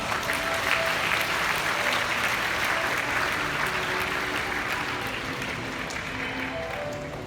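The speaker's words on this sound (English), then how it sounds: "Let us all give them a big round of applause." An audience applauds at a bird show at Bird Paradise in Singapore, the clapping sustained, dense and steady throughout, fading slightly toward the end.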